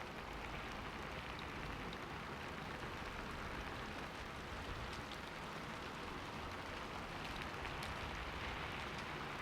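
Steady, dense rain falls without pause, a continuous broadband hiss of drops hitting surfaces, even and close throughout with no voices.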